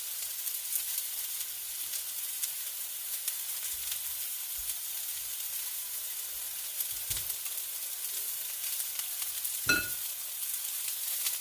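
Ground turkey burger patties sizzle in a frying pan with a steady, close hiss, broken by a few soft scrapes and clunks from the pan.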